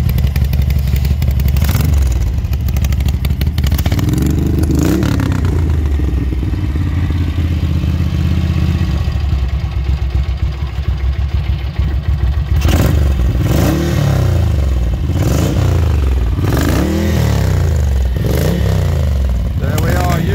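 A 1982 Ducati 900SS motorcycle engine runs steadily up close, with repeated revs rising and falling through the second half, loud and continuous for about twenty seconds.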